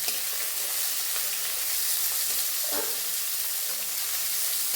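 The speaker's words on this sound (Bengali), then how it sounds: "এবার এর মধ্যে আমি পেঁয়াজটা দেবো।" Chopped onion added to a hot pan for spinach and garlic cooking, giving a steady, close hiss of frying that swells briefly in the middle and holds at an even level throughout.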